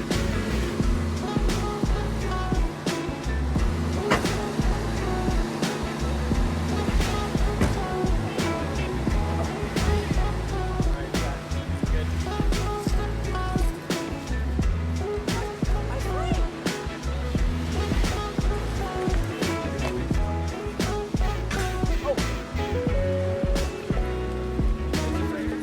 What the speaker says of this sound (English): I believe we've actually reached the waterfall that was listed on the map